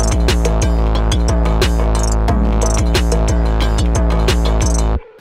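A chopped sample stripped down to drums, percussion and background ad-libs plays loud and dense, a steady punchy groove with layered hits that cuts off abruptly near the end.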